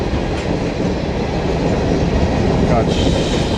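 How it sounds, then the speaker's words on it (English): A long freight train rolls steadily past nearby, a loud continuous rumble with rhythmic clickety-clack of wheels on rail and a faint squeal near the end. "Got stuck by a big old train with no signs of stopping."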